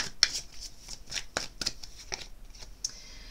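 Playing cards, a guardian angel tarot deck, shuffled by hand in a quick series of crisp riffling bursts, close and moderately loud, with no talking.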